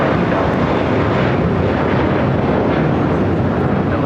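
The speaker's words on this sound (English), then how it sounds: "That was JetBlue Airways Flight 1700 heading to Fort Lauderdale, Florida, an A321" A JetBlue Airbus A321 departs LAX with a continuous loud, broadband jet roar, close and steady for several seconds with no talk over it.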